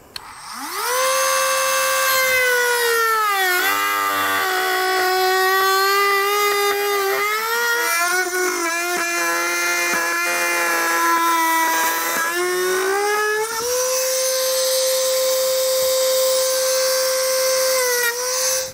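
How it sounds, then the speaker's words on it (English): A Dremel rotary tool cuts an opening in the rear bumper fascia of a 2012 BMW X5, giving a loud, continuous high-pitched whine that dips and rises in pitch as the load changes, with no talk. "I'm gonna be using a Dremel here and I'm just gonna kind of cut this space out"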